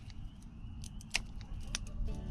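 Pruning shears snip back Concord grapevine canes in a vineyard in March, with a few sharp, distinct cuts standing out against steady low outdoor rumble.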